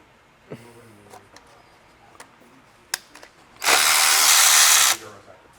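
A power tool whirs in one loud, steady burst of about a second and a half, removing the scavenger pump from a crash-damaged BMW E60 M5 with a V10 engine. Scattered clicks and small metallic clanks come before it.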